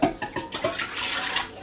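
About two cups of water pours into a Ninja Foodi Deluxe pot, a short splashing gurgle that is fairly faint and heard alone.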